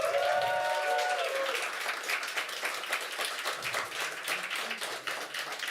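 Crowd at an esports LAN event applauding, a steady wash of clapping and cheering that carries on throughout, with a brief tonal whistle or cheer near the start.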